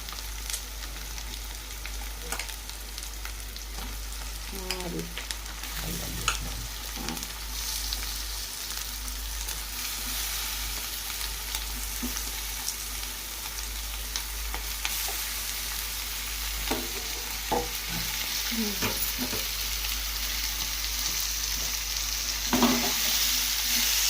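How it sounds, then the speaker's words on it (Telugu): Chicken pieces fry in hot oil for a chicken curry, producing a steady close sizzle with occasional stirring scrapes and pops throughout. "అయితే వేగిపోయింది చికెన్ అయితే వేసుకున్నాము"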